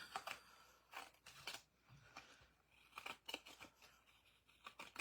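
An older pair of scissors snips through sticky paper and tape for a scrapbook-style card, producing a series of faint, crisp cuts in irregular bursts, close by and quiet, with no talking.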